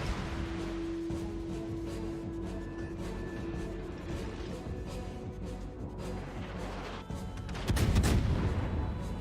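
Battleship guns fire in World of Warships: distant thuds from the big guns and shells landing, then a heavy blast near the end, with a droning hum throughout.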